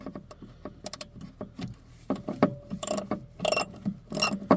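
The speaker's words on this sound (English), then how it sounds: "Well, it's not a wrench, it's a socket and a ratchet." Socket and ratchet tightening a bolt on a traction motor, a few short irregular clicks and metallic rattles close up, growing busier toward the end, no voices.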